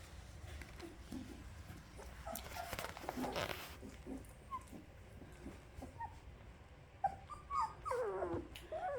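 A 20-day-old golden retriever puppy whimpers and whines in short, high-pitched bursts, with rustling and shuffling noises nearby and louder yips toward the end.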